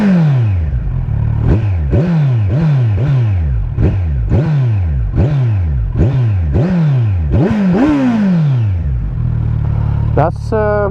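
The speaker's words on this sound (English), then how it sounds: "That's a pretty well sounding exhaust system right there." A 2015 Kawasaki Z1000 streetfighter motorcycle revs repeatedly through its exhaust, recorded up close at the pipe in a shopping mall, with about a dozen sharp rising-and-falling blips in steady rhythm before settling to a lumpy idle.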